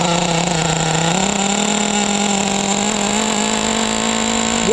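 Nitro engine, an OS 21 in a restored Traxxas T-Maxx RC truck, runs continuously at a high, buzzing idle, with the pitch stepping up briefly then holding steady, loud and close with no voices.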